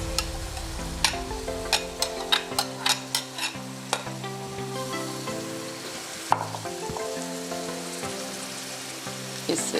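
Washed moong and masoor dal stirred into fried masala in a pot, with a soft sizzle and a string of sharp spoon scrapes and clinks at an uneven pace, close and clear, no voices.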